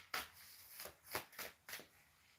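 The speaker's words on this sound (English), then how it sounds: "I'm going to just shuffle through the through my astrology-based deck" An astrology-based card deck is shuffled by hand in quick, crisp riffling bursts, about five short papery flurries close to the microphone in a quiet room.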